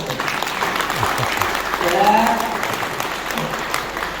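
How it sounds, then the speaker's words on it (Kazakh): An audience claps at a Kazakh wedding celebration: a dense, sustained burst of applause that swells near the middle, with voices mixed into the crowd noise. "шапалақ ұрайықшы"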